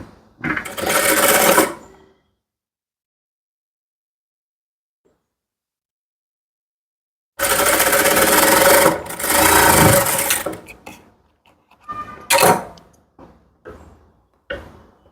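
Sewing machine stitching a dart on a blouse, a short steady run, a long pause, then a second longer burst followed by several brief start-stop bursts, close and loud with no talk.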